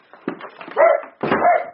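A dog barks twice in quick succession, close and loud, its yelps whimpering at the edges, with no talk over them.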